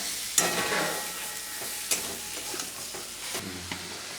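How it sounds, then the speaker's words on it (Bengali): Spice paste is stir-fried in oil with a little water for a fish curry, giving a steady close sizzle broken by spatula scrapes and a few sharp knocks against the pan. "এবার এটাকে মশলাটাকে অল্প অল্প জল দিয়ে ভালো করে তেল ছাড়া অবধি কষিয়ে নেব"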